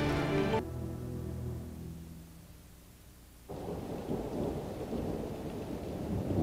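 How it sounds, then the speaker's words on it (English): A thunderstorm with rain: a loud rolling thunder rumble fades away, then heavy rain returns as a dense, steady hiss close by, with no voices. "Rain, life-giving and nourishing."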